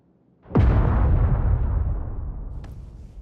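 A single loud explosion in a video game bursts in sharply, then its deep rumble rolls on and slowly fades over a few seconds, with a faint click near the end and no voices.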